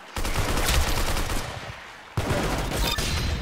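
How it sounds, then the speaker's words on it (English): Rapid automatic gunfire in the Roblox Arsenal video game, a dense burst of loud close shots that fades briefly, then a second sustained volley resumes abruptly. "I'm shooting people, but my kills are getting stolen just before I can finish them."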